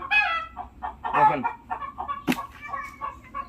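Chickens inside a small transport box cluck repeatedly in short irregular bursts close by, with one sharper squawk partway through and a brief spoken word.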